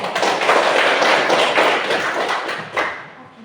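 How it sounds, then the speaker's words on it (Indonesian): Classroom applause for a student named Erik, a dense burst of hand clapping from a group of students, fairly close, fading out near the end. "Tepuk tangan dulu untuk Erik"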